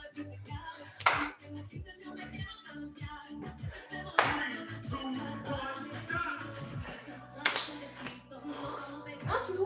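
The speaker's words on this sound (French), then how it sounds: "on peut s'applaudir à chaque fois qu'on ouvre" During a burpees session in a CrossTraining class, hands clap in sharp bursts spaced a second or so apart, mixed with background music and occasional talking.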